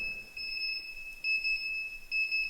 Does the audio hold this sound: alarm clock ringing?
yes